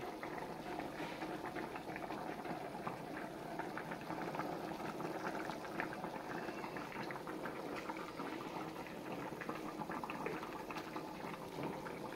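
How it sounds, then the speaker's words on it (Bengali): Rohu fish curry simmers in a pot, giving a soft, continuous bubbling that stays quiet and even throughout with no talking. "আমার ঝোলটা ভালোভাবে ফুটতে গেছে।"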